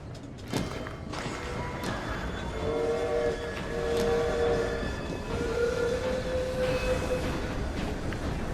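A train rolls along in Assassin's Creed Syndicate, set in a Victorian railway scene, with a steady rumbling rattle of wheels and cars and a sustained whistle tone sounding over it, close and continuous without talk.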